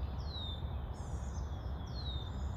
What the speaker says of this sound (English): And the warbler says bzz,